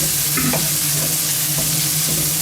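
Chorizo fries in a pan with its rendered fat, a steady close sizzle with soft crackles and a few stirring scrapes, no voices.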